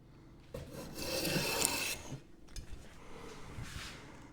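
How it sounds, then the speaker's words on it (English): A hand plane pulls a shaving off a wooden board on a workbench being built, giving two raspy, close strokes, the first about a second and a half long and the second shorter and softer. "this takes a real nice shaving off"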